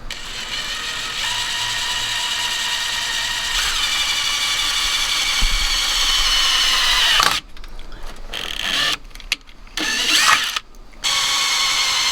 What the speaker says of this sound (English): that's where I'm going to be drilling, and it'll come out on this side right there. So pilot hole first